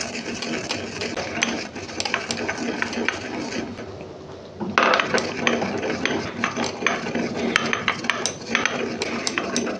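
Roasted fennel seeds are ground into powder for a tomato chutney, producing a steady mechanical rattling and grinding that pauses briefly midway, then resumes louder and continues without letup.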